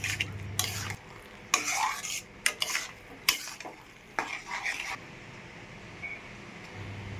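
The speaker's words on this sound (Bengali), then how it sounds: "ভালো করে নেড়ে নেব, না হলে কড়াইতে লেগে যাবে।" Food stirred in a kadai, a spoon scraping the pan in several short bursts separated by quiet pauses, with a low sizzle of frying beneath and no talking.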